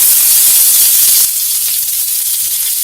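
Chopped onion hitting hot oil with curry leaves, a loud close sizzle that hisses strongly at first, then settles into a steadier, quieter frying crackle, with no voices.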